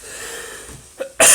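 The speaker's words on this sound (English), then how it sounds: "there we go with the dry cough" A single sharp, dry cough bursts out at the very end after a quiet moment, preceded by a faint catch of breath.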